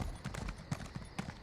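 Horse hooves clip-clopping at a slow, steady rhythm in the Elder Scrolls Online, each soft hoofbeat landing about every quarter second, moderately near and clear with no talking.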